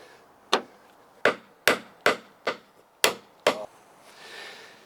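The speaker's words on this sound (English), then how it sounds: "Just take a traditional nail and hammer, a piece of hardwood. I'm just going to drive it in here and just see what happens." Seven sharp, evenly spaced hammer blows drive a traditional nail into a piece of hardwood, each strike a close, loud crack with no talking.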